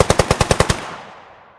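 A beetle's explosive defensive spray, slowed down: a rapid burst of about seven sharp popping pulses in quick succession, like machine-gun fire, trailing off into a fading hiss.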